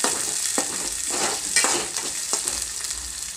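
Ginger garlic paste frying in a pan for a Gangavalli tomato curry, a steady close sizzle with a few sharper bursts as it is stirred, with no voices.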